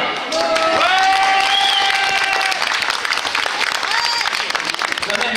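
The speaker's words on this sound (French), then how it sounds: "Vous pouvez les applaudir." A studio audience at a French TV special before the premiere of the Christmas prime-time episode of Plus belle la vie claps loudly and continuously, a dense wash of applause with voices talking over it and a few cheers.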